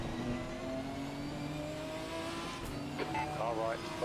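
A GT4 race car engine in Assetto Corsa Competizione revs steadily at Laguna Seca with a sustained droning tone. A voice talks over it near the end.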